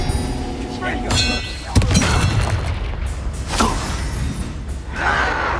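Expelliarmus spell effects from Hogwarts Legacy combat: a sharp boom and crackling magical bursts with thuds and shattering hits, loud and busy over game noise, with a voice shouting spell names.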